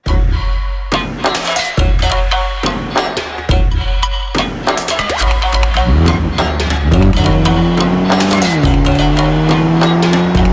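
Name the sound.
Toyota GR Supra engine accelerating with tire squeal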